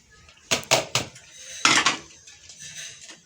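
A spoon stirring ginger garlic paste, tomato and meat together for biryani in a pot: clustered scraping and clinking strokes in two short bursts, close and fairly loud, with no talk.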